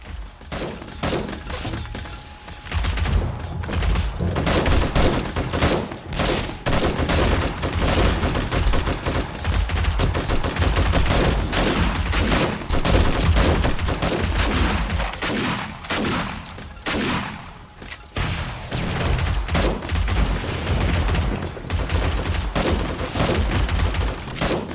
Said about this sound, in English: Always fun to shoot off a few rockets just for fun